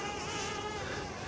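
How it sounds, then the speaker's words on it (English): A DJI Flip drone hovers in strong, gusty wind, its propellers giving a steady high-pitched whine that holds at a moderate level throughout the brief moment. "Let's put the drone up slightly."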